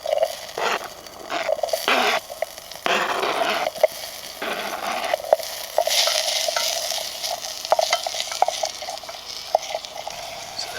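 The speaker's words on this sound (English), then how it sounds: "then we'll get the garlic, the celery and the onions in" Garlic, celery and onions sizzling and being stirred in a titanium billy can over a camp fire, with soft frying hiss and intermittent scraping of a utensil against the metal pot, no voices.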